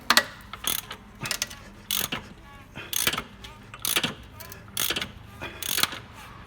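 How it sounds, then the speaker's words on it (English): A ratchet on a socket turns the crankshaft of a Ford Focus Mk2 1.6 Zetec to fit the auxiliary belt, giving sharp clicking bursts in a steady rhythm of about eight strokes, close up. "get your socket or spanner and just turn the crankshaft clockwise"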